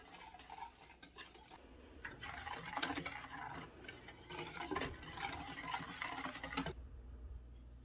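Chocolate syrup simmers quietly in a pot, with a soft bubbling hiss and intermittent utensil scrapes and clinks against the pot, faint and close.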